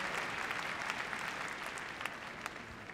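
An indoor audience at the Crufts dog show applauds after a heelwork-to-music freestyle routine at the 2010 international competition, a dense, even wash of many hands clapping at some distance that fades slightly toward the end.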